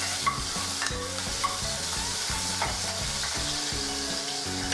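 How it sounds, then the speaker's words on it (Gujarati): Ginger-garlic paste and green chili stirred in hot oil with mustard seeds, cumin and asafoetida, a bright steady sizzle marked by regular scraping spoon strokes against the pan, close and loud with no voices. "આદુ લસણની પેસ્ટ નાખીશું થોડું હલાવી દઈશું"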